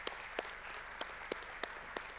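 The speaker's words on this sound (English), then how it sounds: "I suggest that we applaud Dr. Gargash." Audience applause at the close of a WPC 2022 conversation session, a faint, sparse patter of claps in a hall with a few individual louder claps standing out.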